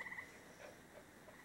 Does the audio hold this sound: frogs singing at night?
yes